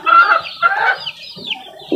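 Chickens cluck and a rooster calls in close, loud bursts of fowl noise from a backyard flock kept with vitamins and streptomycin, with no talk.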